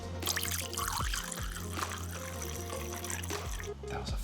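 Cazadores Añejo tequila trickling and pouring into a glass, a steady gurgling stream with low background hum throughout.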